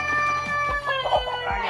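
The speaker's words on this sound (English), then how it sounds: "So we just chased that beautiful rooster, and somebody's taking him home." Chickens and a rooster on a homestead farm, with clucking and a rooster's crow close by, several short sharp calls over a bright sustained crowing tone.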